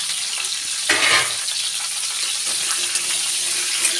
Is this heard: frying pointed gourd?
yes